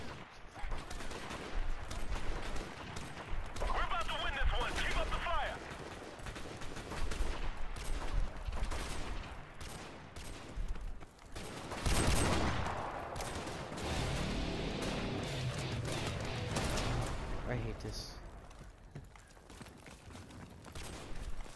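Repeated Barrett sniper rifle shots in a snipers-only video game match, loud booming reports scattered across a busy, dense mix of other gunfire and game noise.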